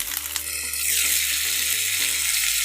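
Spiced Bhola fish fries in a wok, a loud, steady sizzle that swells after a brief quieter start, with light scraping underneath and no speech.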